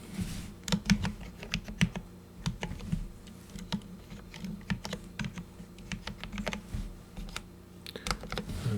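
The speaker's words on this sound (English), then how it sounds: "I'm bad at typing, apparently." Someone types on a computer keyboard in a brisk, uneven patter of close key clicks with brief pauses, alone and without talk.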